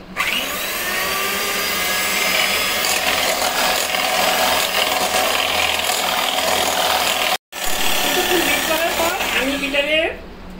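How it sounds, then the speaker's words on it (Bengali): An electric beater whirs at low speed through cream for a kulfi dessert, a loud continuous mechanical buzz with rattling for about ten seconds, cut by a brief pause near the end. "এখন আমি এখানে বিটারের লো স্পিডে এটা বিট করে নিব, যতক্ষণ না ক্রিমটা ঠিক হয়ে আসছে।"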